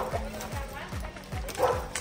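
Dogs bark in a countryside setting in El Salvador, short repeated yips and barks at moderate distance while a person talks over them.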